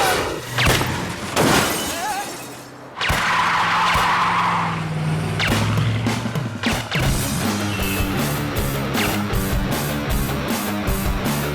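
Car whipped around fast during a getaway in a South Indian thriller, with a sustained tyre skid and engine roar after a crash-like burst, loud and close over dramatic music.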